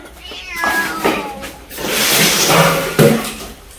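Domestic cat meowing in a cluttered home while junk is cleared out, several rising meows over background clatter and faint voices.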